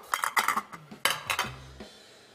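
A colander and plate handled while draining food in a kitchen, with close, bright metallic clinks and clatters in quick clusters, followed by a short low scrape and a fading ring.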